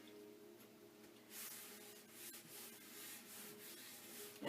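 Wooden pieces of an Elegance clock kit being burnished by hand, a soft, close, continuous rubbing and hissing that starts after a quiet moment and keeps going steadily.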